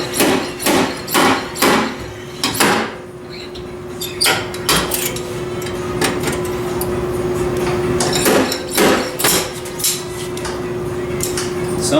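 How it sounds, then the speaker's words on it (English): Cheap stud welder used on the body of a 1995 Ford Ranger, a run of sharp metallic clacks and snaps in quick bursts, with a steady hum beneath and pauses between groups of hits. "Sometimes I've got a cheap stud welder."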